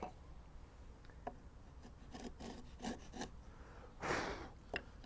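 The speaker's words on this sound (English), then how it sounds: "take my knife just to sever those fibres that are hanging up there" Knife blade cutting away hanging wood fibres in the corner of a freshly sawn tenon on a workbench, a series of quiet short scraping and rasping strokes, close and faint, with one longer rub near the end.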